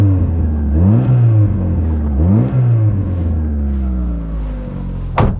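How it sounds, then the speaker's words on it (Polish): An old 90-horsepower car with a sporty exhaust is started and revved a few times, heard through an open door in rising and falling bursts, loud and close, followed by a short sharp clunk at the end. "odpalamy bestię, otworzę drzwi, żeby było słychać, jaki ma sportowy wydech"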